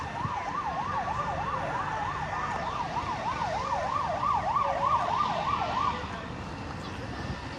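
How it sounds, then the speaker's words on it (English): A fire engine or police siren wails in fast rising and falling sweeps over steady road traffic at a major fire in West Bromwich, England, moderately distant, then cuts off near the end. "That may be another fire engine or police coming down here."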